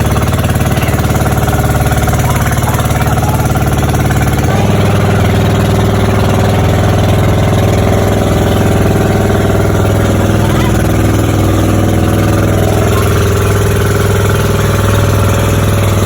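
A rented boat's engine runs loud and close, a steady droning hum that shifts pitch slightly partway through, continuous throughout with faint background noise.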